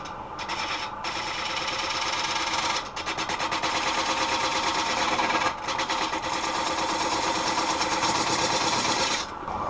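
A wood lathe spins as a spindle gouge shaves black poplar, a continuous close scraping buzz with brief dips where the tool lifts off the wood.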